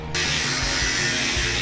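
Power tool buffing a weld on a rat rod, kicking in abruptly after a brief quiet moment and then running as a loud, steady high grinding whir with slight pitch wobbles.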